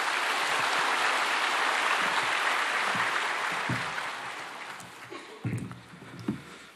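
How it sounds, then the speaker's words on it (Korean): A church congregation applauds to welcome a member forward during a worship service, a broad, loud wash of many hands clapping that fades over several seconds into scattered claps and room noise. "박수로 환영하겠습니다."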